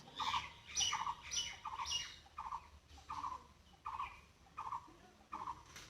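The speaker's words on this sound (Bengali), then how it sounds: "আর শুনতেই পাচ্ছ কোকিলের আওয়াজ তারপরে ক্যাচ কেচে পাখি আছে না ক্যাচ ক্যাচ ক্যাচ ক্যাচ করতেই থাকে" Outdoor birds squawk loudly and harshly in a rapid repeated series of short calls, about ten in quick rhythm, close by against a faint background.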